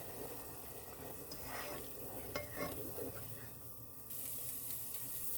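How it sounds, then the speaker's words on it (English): A spoon stirring a pot of chicken biryani before the rice goes in, with soft scraping and sloshing over a steady background sizzle, then a brighter hiss that swells near the end. "let's give this a stir before I add the rice"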